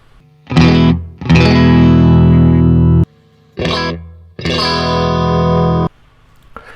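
Distorted electric guitar fitted with a dummy coil and copper shielding, played loud and close as two pairs of strummed chords, each ringing out for a second or more before stopping.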